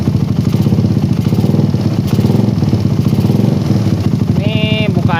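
A motorcycle engine fitted with a PWK carburetor runs close and loud with a fast, even pulsing beat and a slight hiss, and a voice briefly speaks over it near the end.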